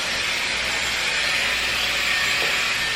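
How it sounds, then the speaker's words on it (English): A blow dryer drying hair roars with a steady, loud, breathy hiss of rushing air that stays even throughout, with no voices. "I'll go in and I will blow dry that back into my hair"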